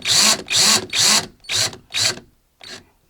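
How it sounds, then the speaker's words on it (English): A power drill running in reverse whirs in five short, evenly spaced bursts on a coil jig, then gives one faint final pulse. "Reverse the direction of the drill."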